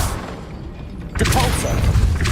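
A Depulso spell blast in Hogwarts Legacy erupts after a quiet second into a loud, sustained whooshing boom, with a voice shouting over the burst.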